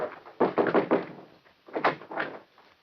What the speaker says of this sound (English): In that case, I'll knock.